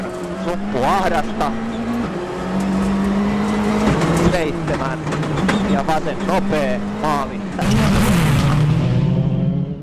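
A Peugeot 307 WRC rally car driven by Marcus Grönholm on an icy Monte Carlo Rally stage, engine revving hard through repeated gear changes and rising pitch sweeps, loud and close, with a commentator talking over it.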